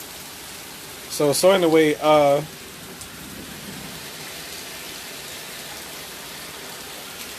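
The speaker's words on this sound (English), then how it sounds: "it's gonna be more rain and more rain." Steady, hissing rain falls on a stormy day, a dense even wash of noise that continues through the clip, with a brief spell of someone talking near the start.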